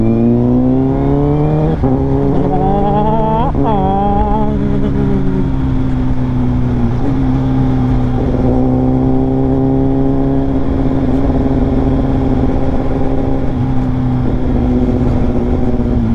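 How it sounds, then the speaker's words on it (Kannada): A 2018 Honda Fireblade SP inline-four superbike revs hard through its exhaust, a loud close howl whose pitch climbs in quick blips and then holds a steady high drone throughout. "ಒಂದು ಗಾಡಿಗೆ ಎಸ್ಪೆಷಲಿ ಇನ್ಲೈನ್ 4 ಗಾಡಿಗೆ ಎಕ್ಸಾಸ್ಟು ಕ್ವಿಕ್ ಶಿಫ್ಟ್ರು ಬ್ಲಿಪ್ಪರ್ ಇದ್ದರೆ ಒಂಥರ ಮ್ಯೂಸಿಕಲ್ ಇನ್ಸ್ಟ್ರೂಮೆಂಟ್ ಆಗ್ಬಿಡುತ್ತೆ"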